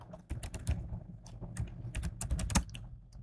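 Quiet, close-up clatter of a computer keyboard while Python code is written, irregular bursts of individual key taps with brief pauses between groups.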